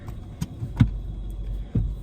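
Inside a moving car, a low road rumble runs throughout, broken by a few dull knocks and thumps with no talk.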